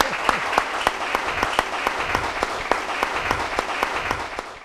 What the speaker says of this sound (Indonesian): Tepuk tangan untuk Dhamma TV.